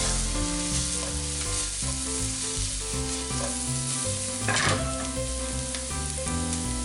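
Onions frying in a pan after a sprinkle of kosher salt, a steady loud sizzle across the whole stretch with some clatter from tossing, no talking.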